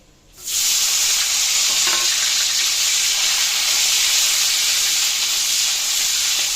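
Tomatoes tipped into a hot frying pan for a vegetarian soybean curry set off a sudden loud sizzle that settles into a steady, bright hiss with faint stirring beneath it.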